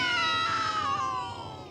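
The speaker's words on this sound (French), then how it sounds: "les chats, ils font..." A cat gives one long, drawn-out meow that slides down in pitch and trails off, close and clear.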